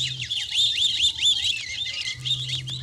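Many spring birds chirp and tweet in a dense, continuous chorus of rapid high calls, with a low steady hum underneath at times.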